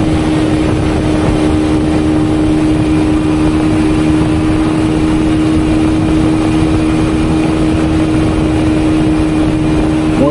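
A motorcycle fitted with a 13-inch front tyre cruising fast on a road, its engine a loud steady drone with constant wind roar throughout.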